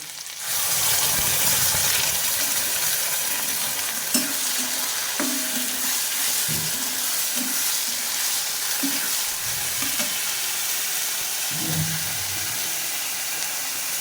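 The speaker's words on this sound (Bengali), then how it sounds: "টমেটোগুলো একটু নাড়াচাড়া করে এখানে জিরা, আদা, রসুন, পেঁয়াজ আর কাঁচা লঙ্কা একসঙ্গে পেস্ট করা আছে।" Tomatoes sizzle in a pan with a paste of cumin, ginger, garlic, onion and green chili for potato and prawn curry, a steady frying hiss broken by repeated soft scrapes and thumps of stirring.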